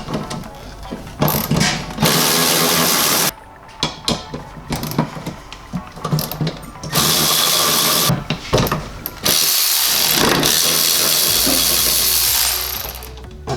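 A ratchet clicks in repeated bursts while undoing two bolts on a vehicle during a snorkel and wiring build, loud and close, with short pauses and metallic tool handling between runs.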